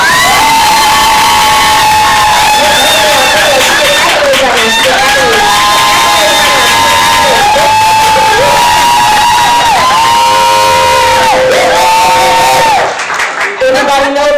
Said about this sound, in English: I'm going to ask that you all give a huge round of applause